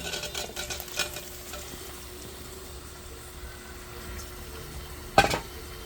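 Steamed mango pieces being stirred into a hot pan, a soft continuous sizzle with stirring scrapes early on and one sharp spoon knock near the end.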